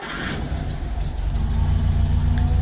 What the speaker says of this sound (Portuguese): Vou ligar o carro aqui.